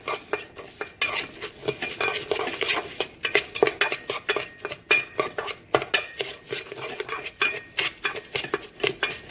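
Brown rice being mixed with oil in a bowl, a steady run of close scraping, clinking utensil strokes against the bowl, irregular and busy throughout with no voices.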